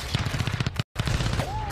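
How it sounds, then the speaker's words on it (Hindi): Gunfire from Pakistani forces firing on Afghan posts cracks in a rapid burst of repeated shots that cut out briefly and then resume, loud and close. "पाकिस्तानी गोलीबारी में अफगानिस्तान को नुकसान"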